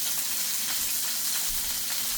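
Picanha steak sizzling and frying in a pan, a steady close crackle of fat with faint bubbling, continuous and fairly quiet throughout.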